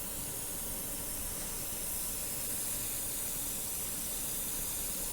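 An airbrush sprays paint onto a board, angled downward, giving a faint, steady, even hiss that runs unbroken for several seconds with no voices.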